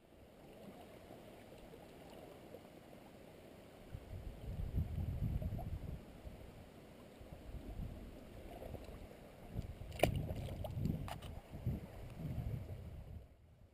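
River water flows through a deep channel over a muddy bottom, a soft, continuous rush that swells louder twice, with some wind buffeting the microphone and no speech.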